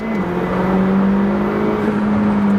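A McLaren sports car accelerates in second gear with its wheels losing traction, giving a loud, steady engine drone whose pitch holds nearly level and climbs only slightly, heard alone without any talk.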